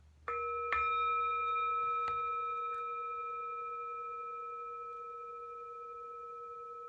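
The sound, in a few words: meditation bell ringing and fading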